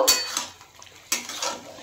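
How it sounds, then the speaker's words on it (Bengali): A spoon clatters and scrapes against a pan as fried eggplant is stirred into a vegetable curry, with two sharp metallic knocks and a faint sizzle between them, close by. "এবার আমি এটা ভালো করে নেড়ে দেব।"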